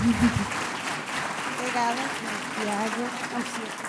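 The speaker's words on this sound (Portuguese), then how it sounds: "Fernanda, aqui uma salva de palmas já agora, claro que sim." An audience claps for a guest speaker, an Olympic champion athlete, with moderate, even applause that continues throughout and a voice heard briefly over it.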